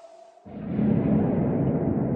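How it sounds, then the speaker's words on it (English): A Minecraft creeper hisses and explodes inside a cave, a thin hiss followed by a sudden muffled blast that swells into a long, rumbling echoing tail. "there's the faint sound of a creeper hiss and explosion echoing through the cave"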